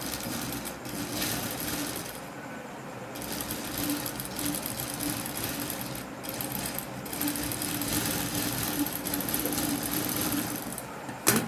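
Close and steady, a sewing machine runs almost continuously while stitching a sleeve design, its even mechanical whir broken only by a couple of brief slowdowns.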